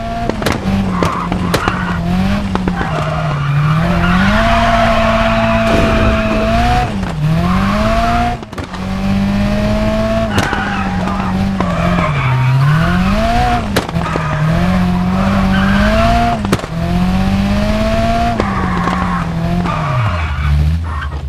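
Rally car engine and exhaust from the WRC 10 racing game, revving loudly and repeatedly climbing and dropping in pitch through gear shifts, with tire skids, continuous and close with no talking.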